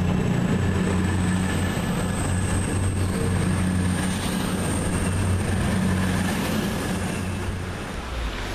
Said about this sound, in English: And now leaving is 222101 with the 1408 service from Nottingham to London St Pancras.